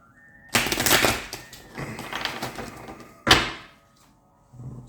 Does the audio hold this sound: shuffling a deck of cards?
yes